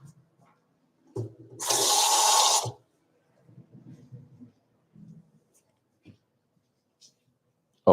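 Water runs from a tap for about a second and a half, a steady rushing sound that stops abruptly. Scattered small clicks and handling noises come before and after it.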